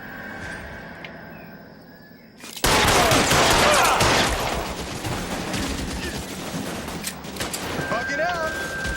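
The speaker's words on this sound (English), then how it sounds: "a lot of shooting here" Heavy gunfire in the 1940s crime video game L.A. Noire erupts abruptly after a quieter stretch, a dense, loud barrage of rapid shots and bursts that continues throughout, with faint speech mixed in beneath.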